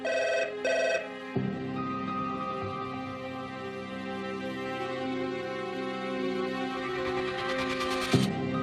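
An old-style telephone bell rings in a loud, rapid metallic trill, two short bursts then a longer continuous ring, heard up close with no voices.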